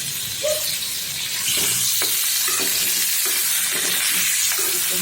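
Prawns hiss and crackle as they fry in a pan, with an ongoing sizzle marked by intermittent stirring clicks and scrapes, close and fairly loud, no speech.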